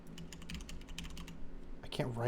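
Computer keyboard typing with rapid clicking keystrokes at close range, a steady run of taps ending in a brief burst of louder noise.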